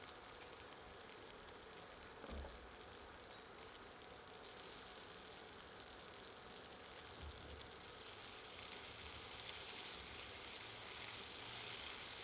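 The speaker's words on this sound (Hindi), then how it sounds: "मसाला सूख रहा है और तेल की कमी लग रही है, तो हम इसमें थोड़ा सा तेल और सम्मिलित कर रहे हैं ताकि इसे अच्छी तरह भूना जा सके" Masala frying in oil in a pan for a gram-flour fish curry, a quiet, even sizzle and crackle that thickens toward the end, with a couple of soft low bumps.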